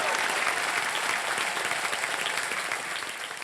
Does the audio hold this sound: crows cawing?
no